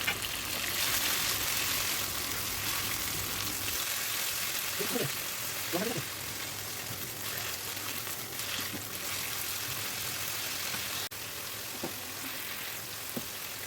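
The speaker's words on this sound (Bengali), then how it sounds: "এরপর ম্যারিনেট করা মাংসের টুকরোগুলো এর মধ্যে আমি দিয়ে ভালো করে একটু ভাজি করে নিলাম" Marinated meat pieces fry in a pan for ramen soup, giving a steady broadband sizzle throughout with a few soft stirring scrapes and clinks in the middle and toward the end.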